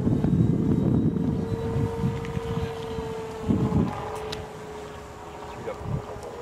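A TBS Mini sound module fitted to a P-40 model plays an electronic imitation of the aircraft's engine: a steady droning hum with a few louder surges, close by.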